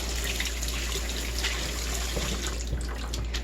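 Rinse water runs steadily over tumbled rocks in a rock tumbler barrel, a continuous trickling, splashing stream like a tap filling a sink, close and even throughout with no talk.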